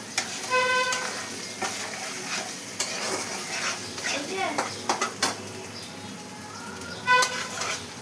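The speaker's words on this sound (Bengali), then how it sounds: "এই যে ভাজা ভাজা হচ্ছে বন্ধুরা" Scented aromatic sun-dried rice frying in a pan, giving a soft sizzle broken by intermittent clicks and scrapes of stirring, with a person talking over it.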